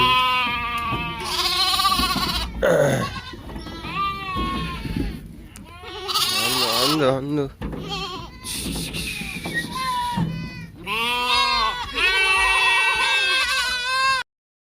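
Goats, including a milking doe and a pregnant doe, bleat loudly and repeatedly at close range in long wavering cries, one after another with brief gaps, while people talk in between.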